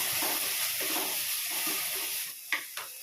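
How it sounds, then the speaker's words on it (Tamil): Onions and tomatoes sizzle and hiss steadily in a hot pan with soft stirring scrapes, then quiet near the end with a couple of light clicks. "வெங்காயமும் தக்காளியும் நல்லா வதங்கட்டும்."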